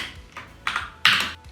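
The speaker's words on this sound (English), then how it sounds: "So I'll type here." Keys on a computer keyboard are typed in a few short, uneven bursts of clicks, close and fairly quiet, with no talking.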